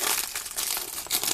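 Crinkly plastic packaging from a Lego Arctic Ice Glider set being handled up close, a dense, continuous rustling and crackling with slightly louder bursts, no talking.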